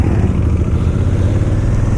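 A Honda Africa Twin motorcycle engine drones steadily at a loud, even pitch on back roads, a continuous close rumble with no speech.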